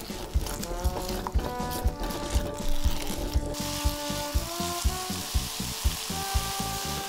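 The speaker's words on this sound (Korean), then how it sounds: "중약불로 볶아줍니다." Potatoes and garlic stir-frying in tuna oil and cooking oil in a pot over medium-low heat, with sizzling under rhythmic stirring and scraping knocks and a tonal background sound.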